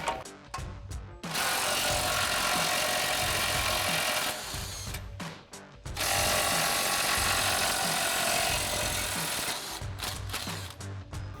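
Impact wrench fitted with a 24mm socket taking bumper brackets off a 2010-2018 RAM 2500, sounding in two long, loud, continuous hammering bursts with brief pauses and short blips between them, no talking.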